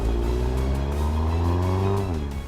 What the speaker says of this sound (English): the car charges ahead with aplomb